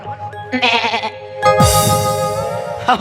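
A person imitates a goat's bleat in a comic rural story, a short wavering nasal cry that stands out, with music and other voices around it.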